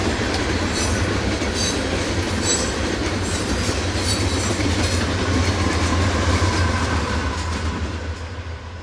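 A CSX freight train passes close by, pulled by one GE locomotive up front with another pushing at the rear, a loud steady rumble of wheels clattering on rail that fades slightly at the end.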